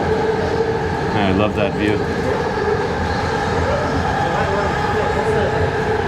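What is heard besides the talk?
train at a train station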